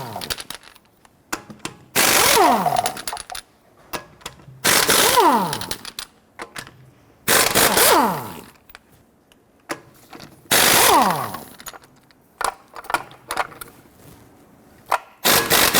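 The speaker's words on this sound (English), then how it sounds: "Using a 21mm socket, go ahead," Lug nuts on a 2005-2021 Nissan Frontier 4.0L V6 are loosened and removed with a 21mm socket on a gear wrench. Four loud, rasping ratchet bursts of one to two seconds each are separated by quieter pauses with light clicks.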